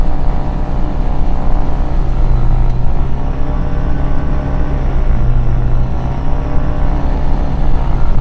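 A 1996 Diamond DA20-A1 Katana single-engine piston aircraft with a variable pitch propeller during its ground run-up near 1900 RPM, giving a loud, steady, close propeller and engine drone that holds without a break.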